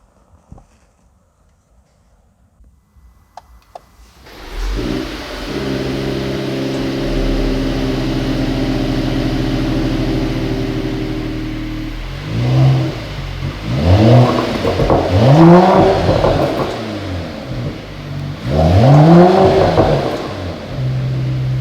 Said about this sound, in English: So let's start the engine and we will listen to the sound.